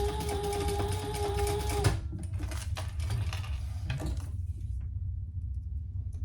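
Sewing machine running a steady, rapid stitch along the side of a crossbody bag for about two seconds, then stopping, followed by quieter handling clicks and clatter.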